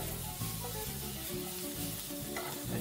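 Chorizo sausage and peppers sizzle in a pan on the stove, a close, constant fry with occasional stirring scrapes and no talk.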